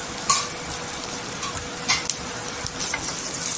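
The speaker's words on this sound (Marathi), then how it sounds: "इथे ठेच्यामध्ये वांगी पण टाकायची. छान अशी तेलावर परतून घ्यायची." Eggplant pieces fry in oil for a Maharashtrian thecha, a soft continuous sizzle with occasional sharp clinks and scrapes of a spatula against the pan, close by and without talk.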